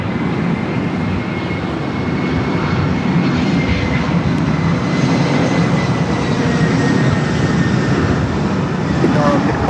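A jet airliner rumbles at Los Angeles International Airport near runway 24, a loud steady roar that holds throughout, with faint voices underneath.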